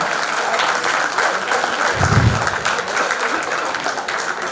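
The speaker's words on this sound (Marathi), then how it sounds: "एकदा जोरदार टाळ्या होऊन जाऊ देत त्यांच्याकरता" Loud, dense applause from a crowd at a school reunion event, continuous clapping that fills the whole span at steady strength.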